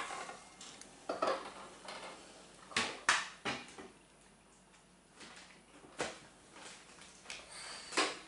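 Golden powder being mixed in a glass dish, giving a series of irregular light clinks and scraping taps, close and fairly quiet.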